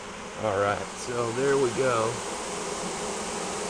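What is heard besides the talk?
bees buzzing around a backyard beehive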